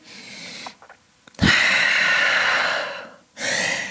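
Deep, steady breathing during a yoga session on a mat: a soft airy exhale, a short pause, then a long, loud breath and another strong breath close to the mic.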